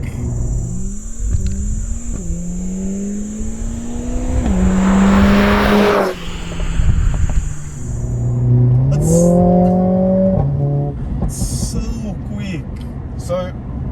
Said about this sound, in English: you do have the real turbo noises up front